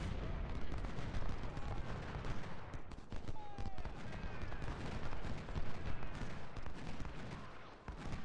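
Artillery fire in the Ultimate General: Civil War strategy game, a dense, continuous rumble of cannon and musket volleys with no distinct single blasts, a busy battlefield din throughout.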